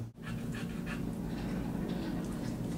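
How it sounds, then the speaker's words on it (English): A dog pants rapidly and steadily at a vet clinic after pre-medication, close by, with quick rhythmic breaths and a low hum in the background. "So this is Rocky after pre-medication. He's nice and comfortable now"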